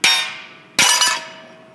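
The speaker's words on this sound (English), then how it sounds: "all it takes is a couple of hits with the hammer" Two sharp metallic clangs of a hammer striking a Madix gondola base leg, each ringing and fading out, the second hit followed quickly by a smaller bounce.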